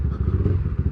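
Motorcycle being ridden on the way to a Yezdi showroom, a steady low engine rumble close by with small clattering thumps over the road, no talk.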